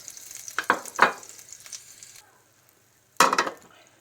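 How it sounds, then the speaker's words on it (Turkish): Peppers sizzle and crackle in a hot pan, with a few sharp stirring scrapes and clatters, then a fresh loud hiss as more goes in. "Aynı tavada kızartıyor."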